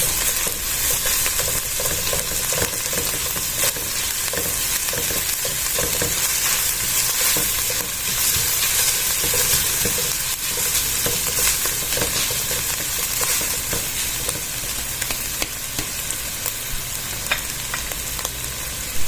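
Pork and other ingredients sauté in a pan for a bottle gourd soup, giving a loud, dense, unbroken sizzle with the scrape of stirring running through it, close up and with no voices.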